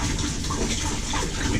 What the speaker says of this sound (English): And then pour the water out.